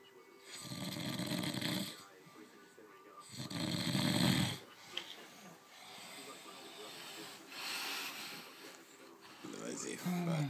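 A man snoring during a stag weekend, loud rasping inhalations in long bursts roughly every few seconds, close by, with quieter breathing between them.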